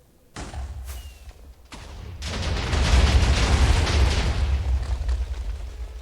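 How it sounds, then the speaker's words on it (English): TNT exploding in a video game beside a fossil, a few sharp cracks and thuds followed by a heavy rolling boom that builds and rumbles on loudly for several seconds. "That wasn't the greatest explosion"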